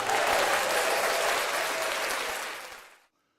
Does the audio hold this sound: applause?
yes